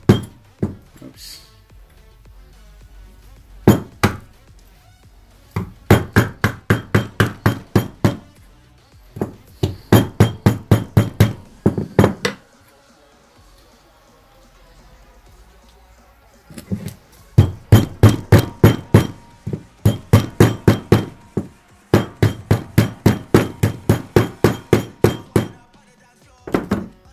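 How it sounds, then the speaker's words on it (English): A hammer drives aluminium contacts onto a carbon fiber sheet for a homemade heater, sounding as loud, rapid bursts of sharp metallic taps in several separate volleys, with quiet pauses between them. "And now you can use a hammer."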